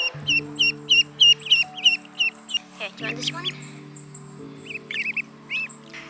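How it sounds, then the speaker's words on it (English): Baby ducks peep in a quick, regular run of high, bright calls near at hand. A person then talks while a few scattered peeps continue. "She finally got her baby ducks."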